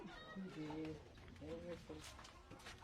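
A few short cat meows, faint and somewhat distant, under a noisy background with people talking nearby.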